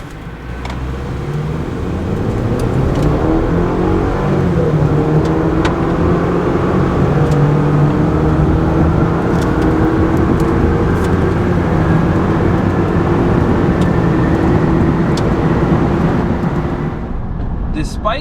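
A 2023 Chevy Silverado with the 310-horsepower turbo four and eight-speed transmission accelerates hard from a standstill to 60, its engine rising steadily through the gears, loud and close from inside the cab for about fifteen seconds, then easing off.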